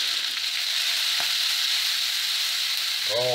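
Vegetables sizzle and fry steadily in a pan for a vegetable omelette, a continuous close hiss with a soft clink near the start and a brief tonal knock at the very end.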